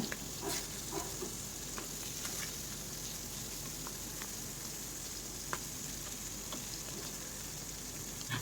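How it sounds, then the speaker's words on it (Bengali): Shrimp fry in hot mustard oil with a faint, even sizzle and scattered small pops and light stirring clicks, heard quietly and steadily with no voices. "তেলটা যখন গরম হবে তখন এর মধ্যে আমি চিংড়ি মাছগুলো দিয়ে দেব এবং ভালো করে ভেজে নেব।"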